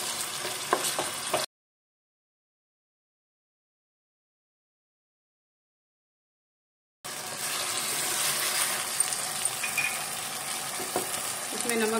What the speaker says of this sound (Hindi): अदरक लहसुन के साथ में चिकन को पकाएंगे 2 मिनट के लिए चलाते हुए।